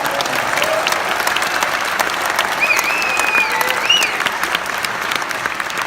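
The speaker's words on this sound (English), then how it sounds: "give a raucous round of applause for all the organizers" A theater audience at a Sierra Club event breaks into steady, lively applause, dense clapping held at an even level throughout, with a few faint whistles or cheers rising above it.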